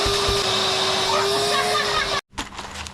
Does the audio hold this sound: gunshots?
no